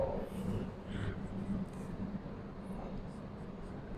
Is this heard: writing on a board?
yes